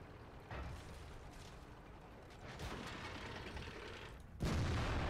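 Tank cannon fire in World of Tanks, broadband bursts over a rumbling mechanical engine bed, with a sharp loud blast near the end, no speech.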